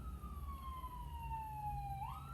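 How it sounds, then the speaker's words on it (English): A siren wails outdoors, one steady descending tone that sweeps back up near the end, heard at a distance over low background rumble. "Siren."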